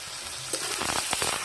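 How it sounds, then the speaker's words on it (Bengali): Potatoes sizzle in hot oil in a pan while salt goes in for a cauliflower-stalk chorchori: a brief, bright, continuous frying crackle with a few quick stirring scrapes near the end. "আলু ভাজার মধ্যে একটু লবণ দিয়ে দেবো"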